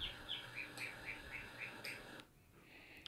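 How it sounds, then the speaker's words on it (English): Northern mockingbird call from a video game: a quick run of about eight evenly spaced, high chirping notes, fairly faint, ending abruptly before a short quiet tail. "I'm going to do another northern mockingbird."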